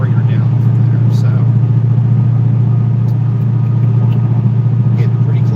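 A Dodge Hellcat engine on a cold day with a filter in the airbox, droning at a loud, steady low pitch as it pulls through fourth and fifth gear. The rumble stays close and constant throughout.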